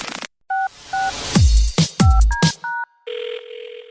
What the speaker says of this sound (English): somebody get Dave Ramsey on the phone.